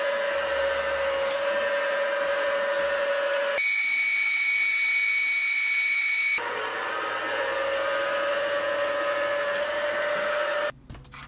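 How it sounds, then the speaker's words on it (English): A drill whines steadily as it cuts holes in an aluminium lathe way cover, its high-pitched motor tone shifting in pitch between passes, close and loud before stopping abruptly near the end. "I'll drill 3 holes so I can bolt it down."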